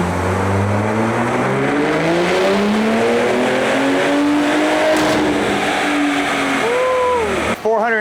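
Ford Raptor truck on a chassis dyno running a JB4 map 3 tune on E30 fuel, its engine loud and close, pitch climbing steadily through a full-throttle pull before abruptly cutting off near the end.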